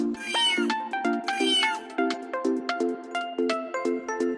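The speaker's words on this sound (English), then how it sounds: "The sound of cat." A cat meows over and over in quick, rhythmic succession, each meow a short, clear, close cry, with no voices around it.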